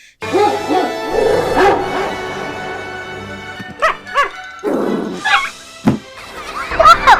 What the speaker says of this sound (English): Patch wants to be a hero, but he does like a pathetic bark.